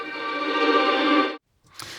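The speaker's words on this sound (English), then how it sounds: "this tiny little section of a loop called Diamond Jubilee String Tremolo" A washy tremolo string sample, the Diamond Jubilee String Tremolo loop, holds a sustained, shimmering bowed tone for over a second, cuts off abruptly, then briefly starts again.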